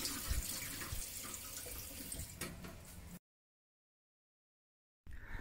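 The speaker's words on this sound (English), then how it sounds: "I remove the chicken and clean it once more under running water." A raw chicken is rinsed under a running kitchen tap: steady water gushing and splashing in the sink, close and loud, cutting off abruptly to silence before briefly resuming.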